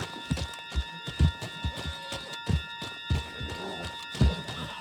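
Hooves of a horse in Red Dead Redemption 2 thud in a steady, rhythmic clip-clop gallop over a constant hum of background tones.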